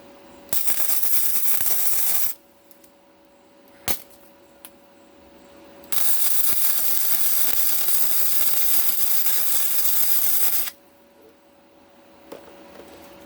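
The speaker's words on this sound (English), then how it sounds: "I run a little tack weld" Tack welds on go-kart steel fuse a clamped nut in place, each burst a close, steady hissing crackle lasting a few seconds, separated by quiet gaps with small clicks and taps.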